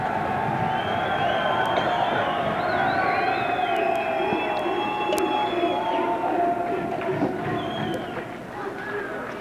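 Seton Hall fans cheering and shouting in an ice hockey arena during a 1982 high school Gordon Cup game against MKA, a steady dense crowd roar sustained throughout with commentators talking over it.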